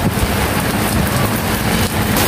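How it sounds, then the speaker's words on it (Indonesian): Heavy rain drums steadily on surfaces at an Indonesian wholesale vegetable market in Cibitung, a loud broadband wash with some low rumble and a brief dip near the end, no voices. "Ini udah mulai turun hujan lagi."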